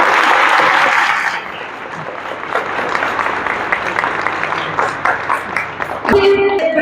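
Sustained crowd clapping at a Suzuki Central Motors staff awards party, loud and continuous, dipping briefly then carrying on steadily before a short burst of other sound at the close.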